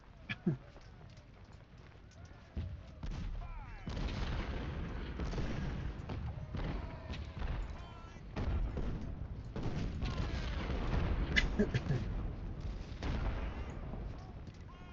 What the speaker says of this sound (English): It's our 3-inch guns. Here are Napoleons.